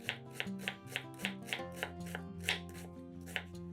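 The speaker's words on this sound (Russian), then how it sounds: "Берем половину большой луковицы и нарезаем ее кубиками." A knife dices an onion rapidly and steadily on a cutting board, sharp close taps about three per second, with a musical tone playing underneath.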